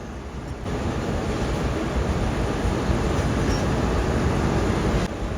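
A passenger train on the Allama Iqbal Express runs along the track in Pakistan, giving a loud continuous rumble and clatter that stays steady for several seconds before easing off.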